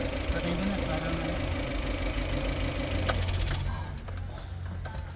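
A Suzuki APV engine running with its timing belt set wrong gives a steady, rough mechanical drone with a faint knocking edge, fairly close and continuous, while people talk in the background.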